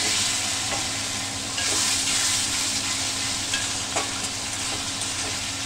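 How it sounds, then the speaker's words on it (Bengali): Spice paste frying with potatoes in a pan for a village-style chela fish curry, a steady, loud, close sizzle and hiss throughout, with faint stirring clicks now and then. "আলুর সাথে মশলাটা সুন্দর করে কষিয়ে নিয়েছি"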